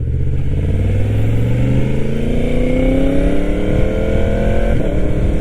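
A 1000cc motorcycle accelerates hard, its loud, close engine note climbing steadily in pitch and then dropping briefly for a quick gear shift near the end, with no talking.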